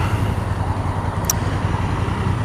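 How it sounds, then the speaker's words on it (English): A car passes on a road near an idling motorcycle, its steady broadband traffic rumble holding at an even level throughout with no voices. "Oh, the car's turning, love."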